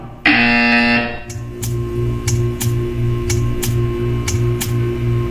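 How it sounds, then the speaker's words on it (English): A loud electronic buzzer from the video game Portal 2 blares at the start, then a steady hum runs under a series of regular ticking clicks. "When you hear the buzzer, stare at the art."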